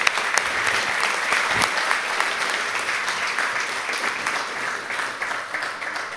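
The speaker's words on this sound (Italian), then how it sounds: "Grazie Willy, un bel applauso." Sustained audience applause at a team manager course session, a dense and steady sheet of clapping from many hands that stays fairly loud and alone for several seconds.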